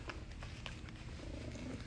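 A house cat purrs steadily and softly close by, a continuous low rumble with no voices over it.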